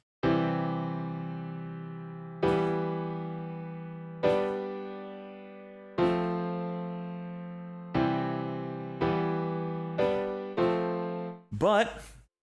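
Sustained keyboard or synth chords in a major key, struck one after another in a slow progression with long decaying tails, each change clearly separated, alone without talking until a brief vocal sound at the very end.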